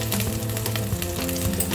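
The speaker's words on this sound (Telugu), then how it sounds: "ఇది నెయ్యి కానీ నూనె కానీ బటర్ కానీ మీకు ఏది కావాలంటే దాంతో పోపు వేసుకోవచ్చు" Spices such as mustard seeds, cinnamon, curry leaves and ginger-garlic paste tempering in hot ghee or oil for a moong sprout pulav, a steady close sizzle with music-like tonal layers running underneath throughout.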